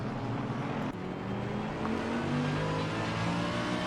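A Mercedes race car engine in Assetto Corsa Competizione roars steadily during a sprint race, a loud, continuous drone with shifting pitch and no breaks.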